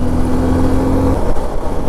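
Motorbike riding along an empty road in Kolkata in the morning: a close, loud engine drone with a steady tone that drops away partway through, leaving rumbling road and wind noise, no talking.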